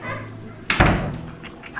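A door bangs shut somewhere in a home kitchen, one sharp heavy thud rising out of steady background noise, with a faint voice murmuring around it.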